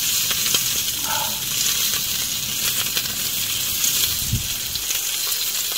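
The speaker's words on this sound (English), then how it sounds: "Get my sausages done." Sausages frying on a camp stove at a carp-fishing lake: a steady, broad sizzle and hiss runs throughout at even loudness, close by, with no talk over it.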